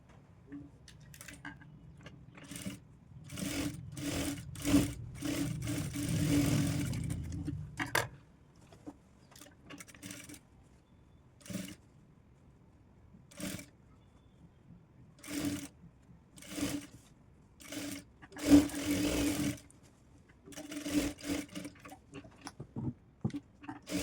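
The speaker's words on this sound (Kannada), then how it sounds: "ಅದೇ ರೀತಿ ಇದನ್ನು ಕೂಡ ಸೆಂಟರಿಂದನೇ ಸ್ಟಾರ್ಟ್ ಮಾಡಬೇಕು ಸ್ಟಿಚಿಂಗ್ನ" A sewing machine stitches a sleeve onto a small child's blouse, running in repeated short bursts with brief pauses between runs, close and fairly loud, with no talking.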